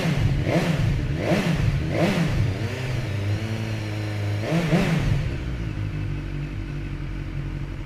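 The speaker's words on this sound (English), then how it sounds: "So let's fire this one up and have a listen." A BMW S1000XR Sport SE motorcycle engine starts and revs in a series of sharp, rising blips, then settles into a steady idle.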